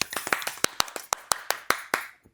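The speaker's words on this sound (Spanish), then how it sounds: "Un aplauso." A few people clapping at the opening of a Spanish-language podcast episode, about a dozen sharp, distinct claps in a quick irregular rhythm, close and dry, trailing off at the end.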